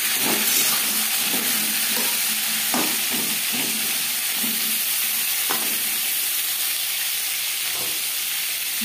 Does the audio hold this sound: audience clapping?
no